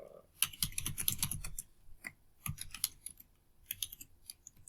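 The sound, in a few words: typing on a computer keyboard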